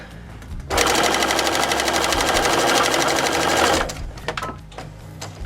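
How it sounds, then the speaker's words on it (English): A sewing machine runs a seam in one steady, rapid burst of stitching for about three seconds, loud and close, followed by a few light clicks and handling sounds. "I'm going to stitch from this little part where I started before all the way down to the end here"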